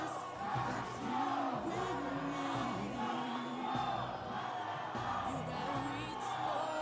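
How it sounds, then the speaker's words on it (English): Stadium crowd cheering and yelling throughout a men's football match between Solomon Islands and New Caledonia, a loud sustained roar of many voices with whoops and calls rising and falling, a commentator's voice faintly over it. "A lot of cheer, a lot of support"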